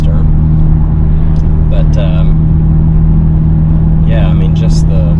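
A 2023 Hyundai Elantra N with 276 horsepower drones loudly and steadily from inside the cabin, while people talk over it.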